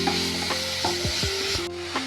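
Long-sliced onions, three of them, sizzle in a pan while a spoon scrapes and stirs in a slow repeated rhythm, close and steady over a constant frying hiss.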